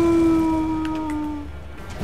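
Wolves in Elden Ring let out a long, loud, steady howl that slowly drops in pitch and trails off, with faint game noise beneath it.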